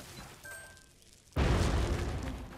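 A bomb blows up in the video game Oceanhorn: Monster of Uncharted Seas, one loud sudden boom that rings out in a sustained rumbling tail after a quiet lead-in with faint game tones.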